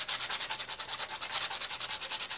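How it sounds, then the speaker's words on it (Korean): Sandpaper is rubbed back and forth over a cut part for a homemade blow gun, smoothing a right-angled edge in a steady, rapid rhythm of close, dry scratching strokes. "이거는 사포가 작업이 훨씬 나을 것 같아요"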